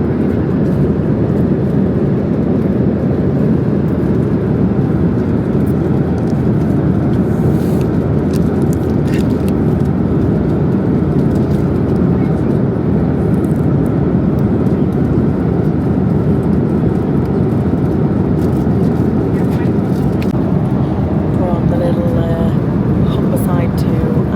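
Steady, loud broadband roar inside a KLM Cityhopper cabin in flight, a continuous drone of engines and airflow that holds level throughout with no breaks.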